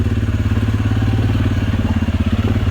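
A 2022 Suzuki KingQuad 750 AXi EPS ATV creeps over rocks in low range on barely any throttle, its engine a loud, close, steady low thudding pulse with a slight clatter.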